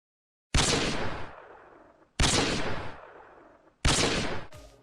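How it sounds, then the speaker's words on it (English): An Intervention sniper rifle fired in a Call of Duty game, three loud separate shots about 1.6 seconds apart, each a sharp crack followed by a decaying rumble, alone with no voices. "I think this is the most distinctive sounding sniper rifle in Call of Duty."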